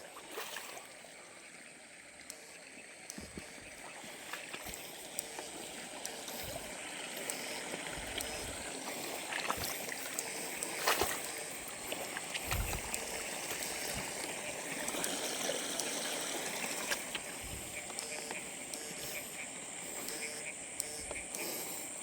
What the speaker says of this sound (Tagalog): Medyo malakas na yung tubig mga idol.